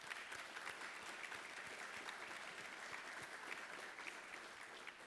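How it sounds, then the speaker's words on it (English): A hall audience at a naval institute gathering applauds, a continuous soft roar of many hands clapping, faint and distant throughout. "Please join me in a round of applause for them"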